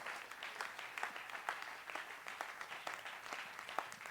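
A church congregation applauds after a sermon, a soft, fairly distant patter of many hands clapping in uneven rhythm that holds steady for a few seconds.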